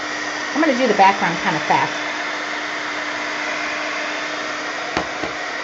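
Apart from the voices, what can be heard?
hair dryer drying a mixed media painting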